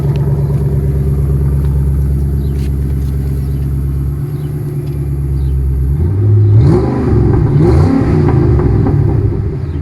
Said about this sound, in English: I'm gonna just leave it and let you listen to some revs.